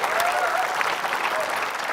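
A live audience claps together during a comedy game-show performance, a dense, steady burst of applause at close range that carries through the whole moment without speech.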